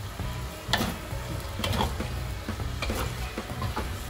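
Tapioca noodles fry in a wok with celery while a utensil stirs them through the pan, producing a steady sizzle broken by repeated scraping and tossing strokes, close and moderately loud.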